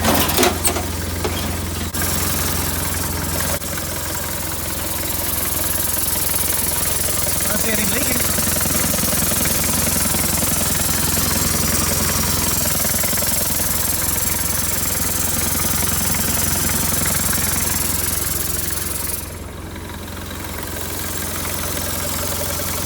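A Toyota FJ40 with a 3B diesel engine idles steadily with its exhaust, a constant low rumble running throughout at close range, with people talking over it.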